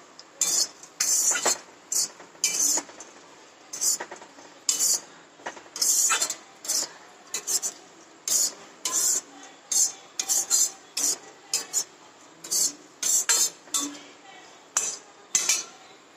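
Dry fruits being roasted and stirred in ghee in a pan for laddoos give a steady run of close, repeated clinks and scrapes of a spoon on metal, with no talk.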